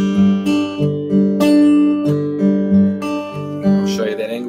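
Fingerstyle acoustic guitar played close and clear, the thumb skipping from the sixth to the fourth string under a steady pattern of plucked notes, about eight evenly spaced attacks over a ringing, sustained bed of strings.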